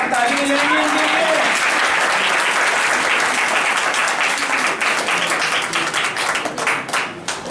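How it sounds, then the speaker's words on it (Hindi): An audience gives sustained, loud applause for artisans at a lamp-making event for people with disabilities. The dense clapping fills the whole stretch and thins slightly toward the end, with a voice briefly audible at the start. "ताली मिलेगी इनके लिए।"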